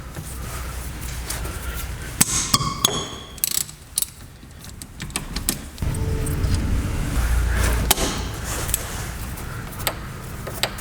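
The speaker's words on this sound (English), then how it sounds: "We're going to undo that mounting bolt, and that'll give us a lot of room to get this caliper up out of the way." Metal clanks and ratcheting clicks from a wrench undoing the rear brake caliper mounting bolt on a 2012 Subaru Forester, close up and irregular, with a steadier mechanical rumble partway through and no talking.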